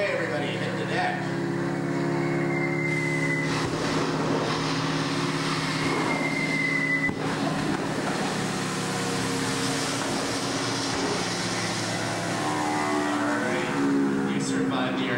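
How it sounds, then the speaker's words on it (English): Droning aircraft engine noise from approaching enemy bomber planes, a staged effect at a theme park attraction, rumbles steadily and loudly throughout, with a voice talking over it. "But just then you hear more planes approaching."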